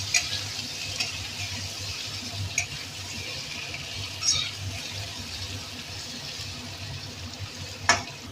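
Potato pieces fry in oil with a little turmeric over a medium flame, a low steady sizzle running close throughout, with occasional light clinks of a utensil.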